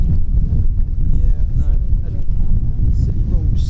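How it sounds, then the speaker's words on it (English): Strong gusty wind buffeting the microphone at a stormy radio-control Laser sailboat race, a loud steady roar with rumbling low gusts, a voice faintly under it. "We had one storm after another, and today was no exception"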